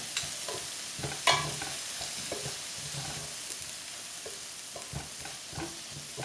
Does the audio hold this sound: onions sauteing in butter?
yes